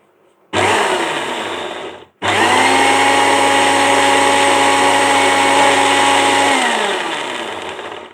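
A blender whirs loudly up close while blending a rice recipe, cutting out briefly after a second and a half, then running steadily before winding down.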